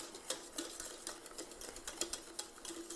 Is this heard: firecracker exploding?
no